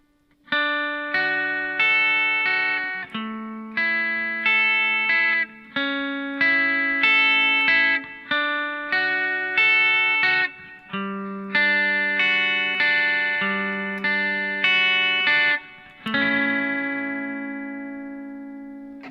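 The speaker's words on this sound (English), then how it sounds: "So altogether, the arpeggiated part, slow, is going to sound like this." A guitar plays the slow arpeggiated part of a song, with clean picked notes rolling through each chord, every string ringing and decaying before the next, alone and moderately quiet.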